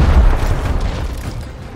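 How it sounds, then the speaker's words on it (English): A frag grenade detonates in the video game Gears Tactics, a loud, close, low booming blast that rumbles and slowly fades over under two seconds. "Frag going out."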